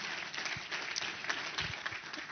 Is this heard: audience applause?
yes